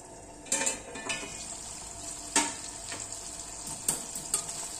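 Prawns cook in a pan for a Maharashtrian pickle, a soft sizzle under a lid broken by several sharp metallic clinks of utensil against the pan.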